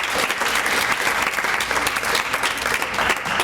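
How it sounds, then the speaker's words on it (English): An audience at a speech event gives a steady round of applause, a dense wash of many hands clapping continuously without voices on top. "I'd like to give them a round of applause."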